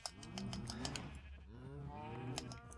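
Cows in the modded Minecraft video game moo and low in repeated drawn-out calls, several overlapping close together with a farm machine setting behind them.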